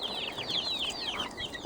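Young chicks on a broiler chicken farm cluck and cheep in a busy overlapping chorus of short, high, rapid calls, close and steady throughout.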